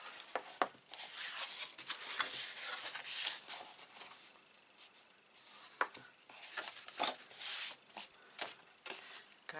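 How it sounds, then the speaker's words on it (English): Score lines on a paper note card are burnished with a tool. The close, quiet rubbing comes as irregular scraping strokes with short sharp swipes, and there is no talk. "So I'm just going to burnish my score lines."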